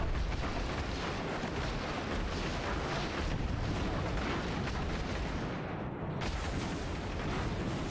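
Airship guns firing in the Airships: Conquer The Skies video game: a dense, continuous barrage of booming blasts and explosions, loud and close throughout, without pause.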